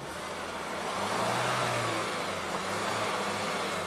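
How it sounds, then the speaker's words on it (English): A VW with a GDI engine in limp mode, check engine and EPC lights on, revs reluctantly: a close mid-pitched engine note rising briefly and then settling, sounding strained and unable to climb. "It's kind of reluctant to rev."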